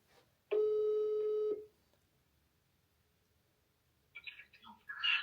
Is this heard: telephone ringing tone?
yes